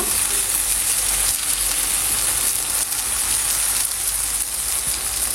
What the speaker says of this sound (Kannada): ಇವಾಗ ಒಂದು ಸೈಡ್ ಫ್ರೈ ಆದ ತಕ್ಷಣ ನಾವು ಫ್ಲಿಪ್ ಮಾಡಿ ಇನ್ನೊಂದು ಸೈಡ್ ಕೂಡ ಫ್ರೈ ಮಾಡಬೇಕು